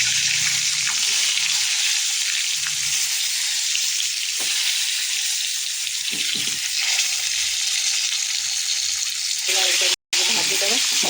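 Eggs fry in oil with turmeric in a wok, a steady broadband sizzle running throughout with faint stirring and clatter, briefly cut by a short silent gap near the end.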